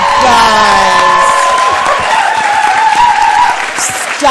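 Loud, sustained applause with cheering and whoops from a live audience at a book event as two authors are welcomed on stage, with a voice briefly audible over the crowd.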